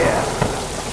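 Heavy rain during a thunderstorm: a loud, dense, continuous roar of downpour with a brief low rumble in the middle, close and enveloping.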